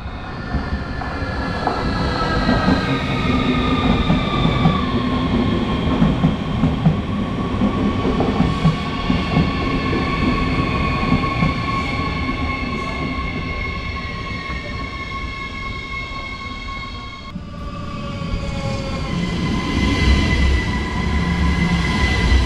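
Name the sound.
trains at Bergen auf Rügen station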